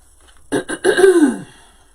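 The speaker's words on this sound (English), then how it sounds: "Sorry if I have to keep clearing my throat," A single throat clearing, close and fairly loud: two short rough bursts followed by a longer gravelly rumble, then quiet.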